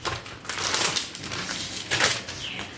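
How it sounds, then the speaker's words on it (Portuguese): Pages of a Bible are leafed through, giving soft papery rustles and a few crisp flicks and turns, quiet and close. "Vamos folhear a nossa Bíblia."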